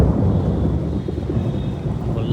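Thunder rumbles low and steady through a night rainstorm, with a continuous deep roar mixed with the hiss of rain, loud and close, with no voices.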